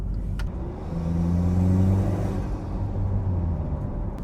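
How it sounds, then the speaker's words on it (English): A turbocharged 2.0 TDI diesel engine in a Volkswagen Transporter T6 van rumbles steadily from close by, its low drone rising in pitch as it revs, with a whooshing air intake noise over the top. "Just straight away you can hear the air gets sucked in by the air filter."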